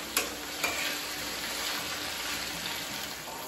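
Almonds sizzle steadily in hot olive oil in a pan with green beans and sautéed onion, a continuous close frying hiss with a couple of quick scrapes from stirring at the start.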